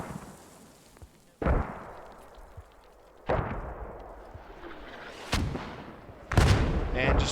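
Mortar rounds fire and impact in a military shooter game, several heavy booming blasts at irregular intervals over a rumbling background, with faint talk underneath.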